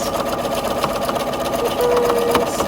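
A sewing machine runs steadily during free motion quilting, a continuous close mechanical whir held at an even speed with no pauses, and quiet talk can be heard underneath.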